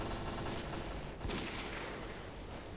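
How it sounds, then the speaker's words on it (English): Steady rattling gunfire from a shootout in S.T.A.L.K.E.R.: Clear Sky, a dense continuous barrage of shots with a sharper burst near the middle, fairly loud and with no talking. "Who the fuck is shooting at me?"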